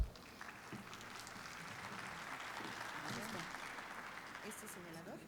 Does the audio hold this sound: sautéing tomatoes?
no